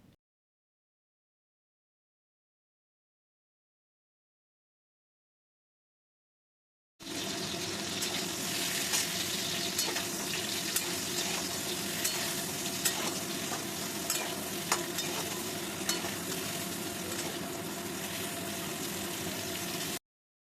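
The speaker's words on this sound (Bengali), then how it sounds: "এবারে লাল লাল করে পটলগুলোকে প্রথমে ভেজে নিতে হবে।" Pointed gourd pieces frying in oil in a pan with salt and turmeric, giving a steady loud sizzle with scraping stirs, starting abruptly after several seconds of silence and running on alone without talk.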